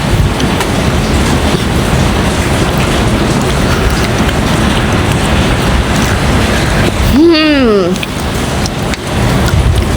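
Rain falls steadily in a dense, close hiss that runs throughout, briefly interrupted near the end by a rising and falling tonal vocal sound over the downpour.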